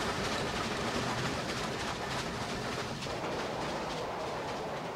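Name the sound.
steam train rushing past, audiobook sound effect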